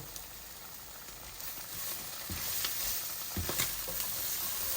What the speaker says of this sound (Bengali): অলমোস্ট ভাজা ভাজা হচ্ছে।